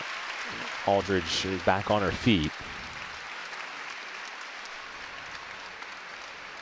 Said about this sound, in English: she gets a hand from this crowd